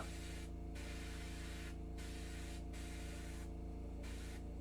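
Paint spraying in short bursts: loud hissing jets start and stop several times over a constant low mechanical hum.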